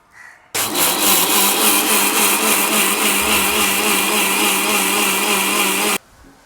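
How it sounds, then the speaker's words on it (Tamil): A mixer grinder runs at full speed, blending appam batter of ground rice and thick coconut milk, a steady loud motor whine with churning that starts abruptly and cuts off after about five seconds, no talk over it. "இதோட இந்த நல்ல கட்டிப்பாலையை ஊற்றி அடிச்செடுப்போம்"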